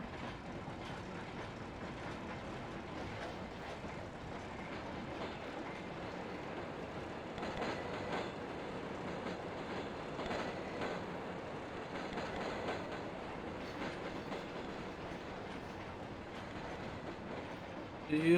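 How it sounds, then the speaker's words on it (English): Train cars rolling on rails in the TRS22 train simulator, set on an Argentine route, a continuous steady rumble with faint clickety-clack rhythm, moderately loud and even throughout, with no talk over it. "if you're like looking at the train cars as they go, you'll see that they are quite wobbly on some locations"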